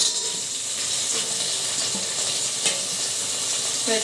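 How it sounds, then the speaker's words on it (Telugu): Onions, peas and potatoes fry and sizzle in a pan for vegetable biryani, a loud steady crackle with occasional stirring scrapes and no voices. "క్యారెట్లండి టమాటాలు పచ్చిమిర్చి ఇవన్నీ వేగనిద్దాం"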